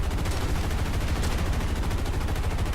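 Dense, rapid gunfire rattles continuously as bullets strike an aircraft in the combat flight game War Thunder, loud and unbroken throughout.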